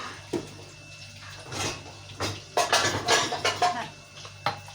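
Dishes and cutlery clatter and clink in a series of bursts as they are loaded into a dishwasher, with some running water and faint voices in the background.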